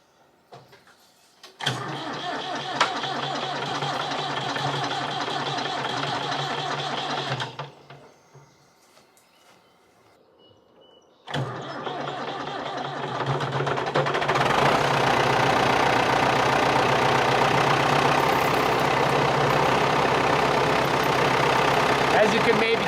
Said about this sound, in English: not the best starting tractor that we have here on the farm